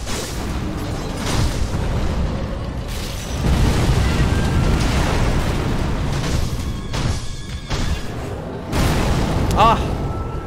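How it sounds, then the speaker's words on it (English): A firecracker goes off in Sekiro: Shadows Die Twice, giving several deep booming bursts and crackling pops. A person talks over the blasts. "Does he look like something that gets scared by firecrackers?"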